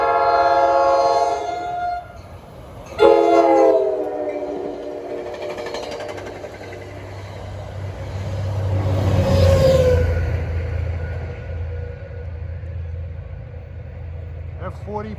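NJ Transit commuter train headed by a General Motors F40PH locomotive arriving at Ramsey, New Jersey, sounding loud multi-tone horn blasts, then a rising rumble of the passing train, with a voice talking at times.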